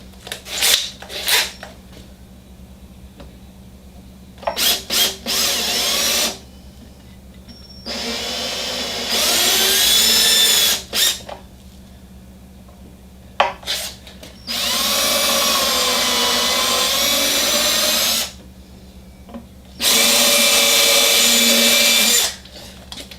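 A power drill with a 3/8 inch bit drills holes during a Boston Whaler steering system install, whirring in several separate bursts of a few seconds each, loud and close, with short quiet gaps and small handling noises between runs.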